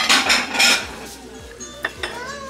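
Crystal-effect glass dishes clink and knock together as they are handled on a shop display, a few bright chiming taps close by, then a couple of lighter clicks, with no talk heard.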